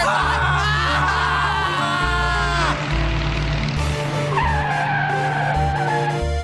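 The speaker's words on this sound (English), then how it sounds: "Dave, stop the car!" Tires squeal as a car skids hard to a stop during a cartoon chase, a loud sustained screech over a driving engine and music, with brief vocal yelps mixed in.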